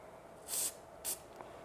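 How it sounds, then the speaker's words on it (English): Parts cleaner sprayed through a Janus 250 motorcycle carburetor jet: two short hissing bursts, the first longer, then a faint click, close to the microphone with no talk. "I'm going to spray those also with some of this parts cleaner."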